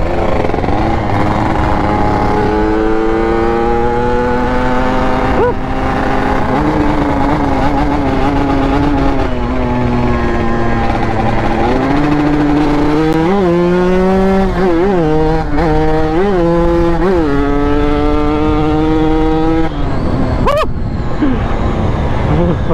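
Kawasaki Ninja RR two-stroke motorcycle revving hard and doing wheelies, a loud, continuous rasping engine whose pitch repeatedly climbs and drops through throttle blips, close to the listener, with a sharp bang near the end.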